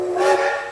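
A steam train's whistle, blown by the driver, sounds as one short, shrill, breathy blast close by, standing alone.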